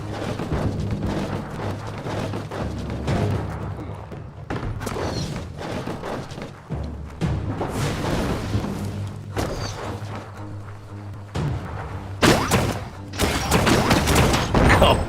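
Gunshots and a booming barrel explosion in the video game Biomutant, heavy thuds and blasts recurring over a steady low droning background, with a loud eruption near the end.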